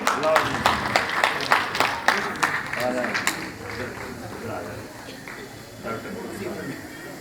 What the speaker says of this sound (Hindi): कृपया 2000 तालियां इनके लिए।